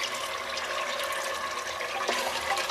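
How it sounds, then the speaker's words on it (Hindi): Water poured into a pot of degi-style korma during cooking, a soft steady splashing and trickling heard faintly and continuously. "थोड़ा सा पानी और डाल दीजिए"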